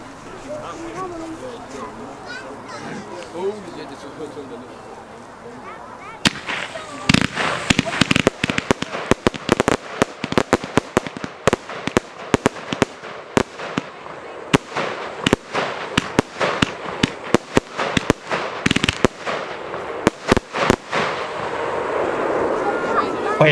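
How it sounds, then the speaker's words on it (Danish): A Headhunter firework battery (1 kg of powder, 40 shots, 45 mm) fires at a fireworks demo show. Quiet ambience gives way to a long, rapid barrage of sharp, loud cracks and booms, closely spaced with a few brief pauses. "Det er altså et 1 kilo krudt på 40 skud, 45 mm til 299 her i aften."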